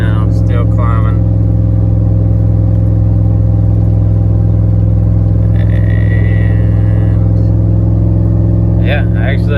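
A truck with a BTR Truck Norris cam in an LQ4 6.0 V8 tows uphill at partial throttle, its deep steady engine drone loud and constant beneath intermittent talking.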